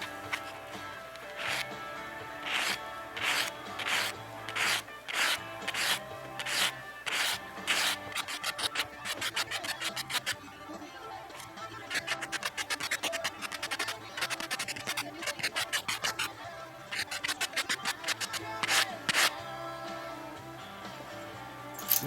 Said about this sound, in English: I'm just very lightly with this foam, with this sanding block. This is 320 grit, just lightly.